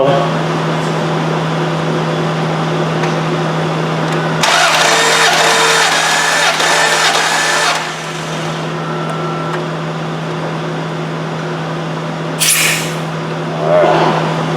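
Dodge 4.7 engine cranking at wide open throttle during a compression test: a loud, steady starter drone with a constant hum lasting several seconds, then easing off, followed by a brief hiss.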